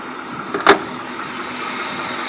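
A mildly cammed Chevrolet L78 402 V8 with a street mechanical cam, fitted in a 1976 Jaguar XJS, idles steadily with an even, moderate rumble, broken briefly by one sharp click near the start.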